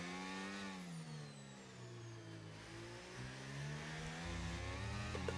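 Race cars drifting in a racing video game, with steady engine drone and rising revs as tyres slide through corners, loud and continuous throughout with no talk.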